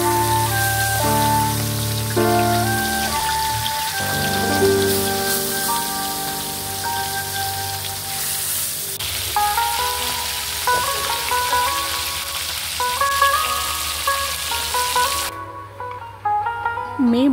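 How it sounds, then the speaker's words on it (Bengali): Fish sizzling in hot oil in a pan, a continuous crackling hiss that runs beneath prominent background music throughout. "গরম তেলে মাছগুলো ছাড়তে দারুণ একটা স্বাদ"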